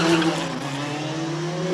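A Mitsubishi Evolution 2-liter 16-valve race car at a hill climb practice session in Cape Town, its engine holding a loud, steady high drone throughout with a slight pitch rise at the end.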